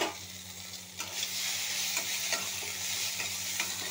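Okra and potato with turmeric and cumin sizzle in a hot pan, with a steady crackle broken by the scrape and clatter of stirring, close and alone.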